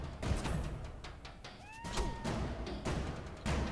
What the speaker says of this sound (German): Das ist ja voll süß, wie die Katze angreift.